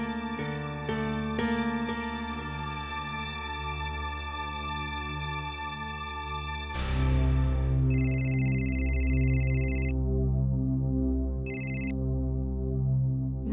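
A telephone rings as a call is placed in a Marathi TV serial scene. Steady electronic ringing tones sound over a sustained musical bed, with sharper repeated ring bursts near the end. No one speaks.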